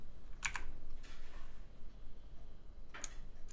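Brief keystrokes on a computer keyboard while entering a terminal command on Bluestar Linux 4.18.4: a quick cluster of clicks near the start, a soft pause, then one more keypress near the end, close and fairly quiet.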